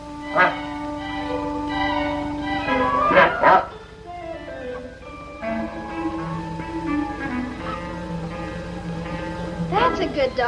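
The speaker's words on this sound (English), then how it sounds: "That's a good dog." A dog barks in short bursts, a few sharp yaps near the start and again around the middle and end, set against a cartoon-style music score with bell-like tones and speaking voices.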